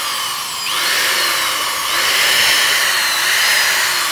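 A power drill fitted with a bent nail stirs wall paint, whirring steadily and loudly, its pitch shifting slightly as the load changes, with no voices.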